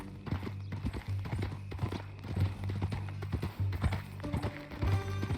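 Horse hooves clip-clop steadily in the Red Dead Redemption 2 video game, a close, rhythmic stream of hoofbeats over a constant low hum, with faint tack rattles and a brief whinny-like sound.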